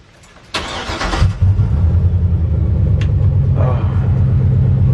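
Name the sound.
Trailblazer SS engine starting in swapped 1965 Chevy C10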